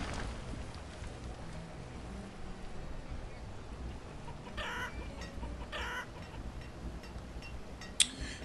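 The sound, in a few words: chickens clucking in video game Banished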